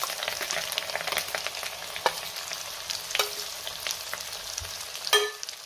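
Ground masala paste fries and sizzles in oil in a pan, with a steady hiss broken by occasional scraping stir strokes and small pops.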